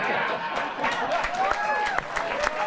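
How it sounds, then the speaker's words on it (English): A studio audience at a late-night comedy talk show gives light, scattered clapping mixed with murmuring voices and chatter, fairly close and steady throughout. "Mercy clapping! Mercy clapping!"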